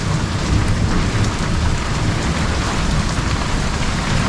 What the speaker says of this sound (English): There's still thunder and lightning.